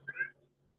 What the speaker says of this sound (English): You might hear the cats in the background